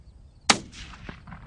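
A single sharp rifle shot cracks out during an outdoor hunt, followed by a short echoing tail and a faint second thump, with no voices.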